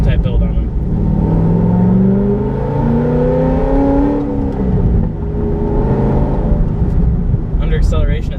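A Corvette C6 Z06 with its LS7 V8 pulls hard under acceleration, a loud, close engine note that rises in pitch, eases briefly and climbs again, with a voice speaking over it.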